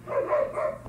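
A dog barks indoors in a short, loud burst of close yaps that blend together over less than a second, with no talk.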